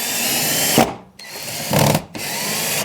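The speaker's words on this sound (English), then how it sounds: "Just a couple of drywall screws to attach it." Power drill driving drywall screws into OSB while installing a home gym wall storage system: three loud, close whirring bursts, each cut off by a brief pause, no talk.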